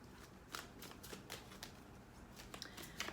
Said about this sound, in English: The shuffling is what takes the longest